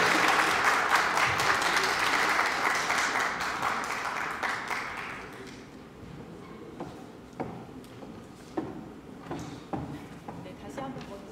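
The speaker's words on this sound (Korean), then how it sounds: "이혜민 씨를 큰 박수로 맞아주십시오" Loud applause at a party press conference welcoming a new recruit, a former Google employee, dense clapping for about five seconds, then fading into scattered claps and room noise with speech.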